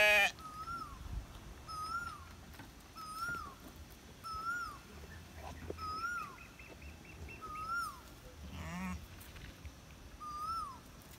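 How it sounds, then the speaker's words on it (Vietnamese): Lambs bleat repeatedly on a farm, with short calls recurring about every two seconds at a moderate distance over a soft outdoor background. "đây là mấy cừu con"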